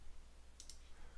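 A single soft computer mouse click while working in AutoCAD Civil 3D drafting software, brief and quiet over faint room hum.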